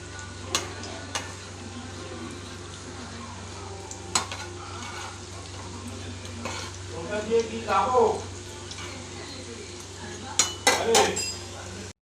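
Bora fritters fry in oil over a low gas flame, with a soft, quiet sizzle underneath and occasional clinks and scrapes of a utensil against the pan, louder toward the end.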